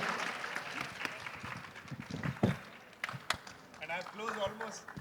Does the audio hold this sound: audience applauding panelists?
yes